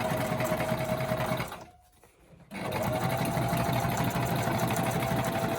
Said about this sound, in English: I'm just doing a straight stitch here, very quickly, just to finish it off.